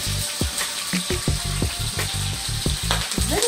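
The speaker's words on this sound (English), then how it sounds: "Salmon cooks very, like most fish, salmon cooks very quickly." Salmon fillet frying in a pan, a steady close sizzle broken by a series of sharp clicks and scraping knocks, with no talk over it.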